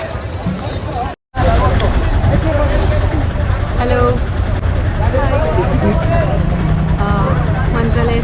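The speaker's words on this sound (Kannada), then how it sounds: "ಅಲ್ಲಿ ಇವಾಗ ಶೇರ್ ಆಟೋಲ್ಲಿ ಇಬ್ಬರು ಹೋಗ್ತಾ ಇದ್ದೀವಿ" Shared auto rickshaw ride from a railway station to a temple in Mantralaya, with a steady loud engine rumble and road noise throughout, briefly cut out near the start, and crowd babble around it.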